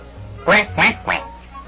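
In a children's story, a duck character gives three loud, distinct quacks in quick succession, close and clear over a faint background.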